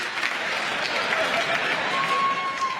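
Audience applause and cheering at a stand-up comedy show, a dense, steady wash of clapping and crowd noise that fills the whole stretch at full loudness.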